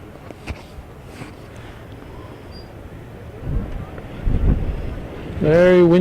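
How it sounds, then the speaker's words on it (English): Gusty wind buffeting the microphone at an outdoor girls' soccer game, low rumbling bursts that grow stronger toward the end, with a voice speaking in the final moment. "Very windy day"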